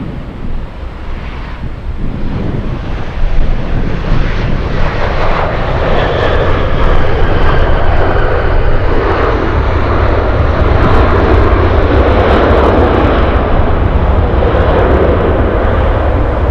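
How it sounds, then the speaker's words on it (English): Alaska Airlines Boeing 737 jet arriving from King Salmon into Anchorage, its engine roar swelling and holding loud and steady, with wind buffeting the microphone throughout. "We have the Alaska Airlines 737 flying in from King Salmon."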